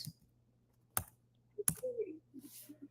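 Keys on a computer keyboard click in a few sharp, separate taps against a quiet room hum, with brief murmured speech between them.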